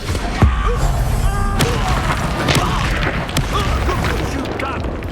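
Explosion from the Expulso blasting spell in the video game Hogwarts Legacy, a sharp boom near the start followed by crashing debris and rumbling battle noise that stays loud throughout.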